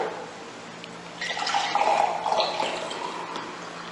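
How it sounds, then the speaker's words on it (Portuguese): Water poured into a glass cup, a soft liquid splash that builds from about a second in and continues steadily for a couple of seconds, close and moderately loud with no talk. "o que vai acontecer se nós enchermos esse copo de água?"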